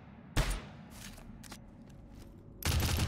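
Gunfire in the video game GTFO: a sharp burst near the start, a few faint shots in between, then a heavier sustained volley at the end over a quiet background.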